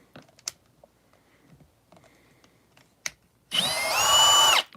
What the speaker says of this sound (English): when you're drilling plastic, you will get, usually we'll get the remnants of it on here